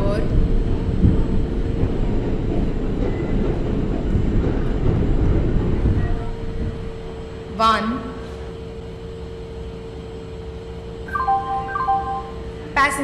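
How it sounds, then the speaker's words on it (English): A passenger express train pulls into platform 1 on a North India route in Indian Train Simulator, its loud, steady rumble dropping off after about six seconds while a station announcement voice and chimes continue over the quieter platform. "Train number 12655 passenger express is arriving at platform"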